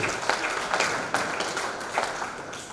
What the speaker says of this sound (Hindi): जोरदार तालियों से उनका अभिनंदन कर दीजिए।